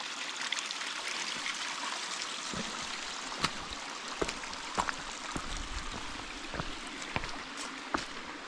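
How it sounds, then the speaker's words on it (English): Water pours steadily out of a small hole in the rocks of a canyon, a continuous rushing trickle heard close up. Occasional sharper splashes and drips stand out against the flow, and no one speaks. "There's a smaller hole coming out of the rocks here that has just as much water running out of it today"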